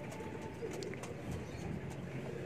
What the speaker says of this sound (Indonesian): akhirnya merpati-merpati itu tak rawat dengan senang hati